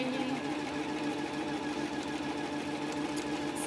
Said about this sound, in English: so just sewing across